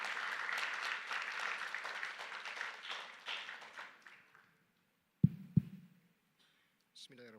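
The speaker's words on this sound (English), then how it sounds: "Once again, please welcome Mr. Hendra with a warm round of applause." Audience at a youth leaders summit at a Malaysian university claps to welcome a speaker, a moderate round of applause that fades out over four seconds, followed by a couple of microphone thumps and a voice beginning to speak.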